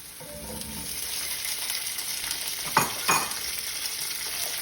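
Vegetables sizzle in olive oil in a pan with a steady crackle, and two short louder scrapes of stirring land near the middle.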